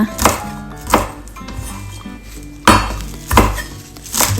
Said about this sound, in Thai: เอามาหั่นตามชอบเลยนะคะ